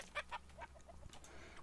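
Rooster in the video game Reign of Kings giving a few quick, faint clucks in short bursts over a quiet background.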